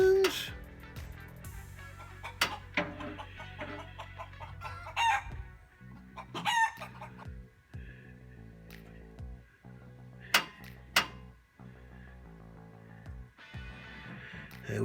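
Chickens cluck and a rooster crows close by, with repeated sharp calls and squawks over a low steady hum. Someone talks quietly between the calls.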